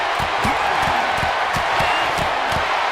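Loud, steady crowd roar from an arena audience at a fistfight in a video game, continuous and dense with rhythmic thumps of blows underneath.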